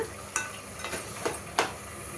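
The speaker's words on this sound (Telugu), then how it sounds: "వేసుకొని ఇట్లా మంచిగా కలుపుకుందాం, మసాలా అంతా పట్టేదాకా" Crab curry with masala being stirred in a pan: four quiet, evenly spaced scrapes of a spoon over a faint sizzle, with no voices.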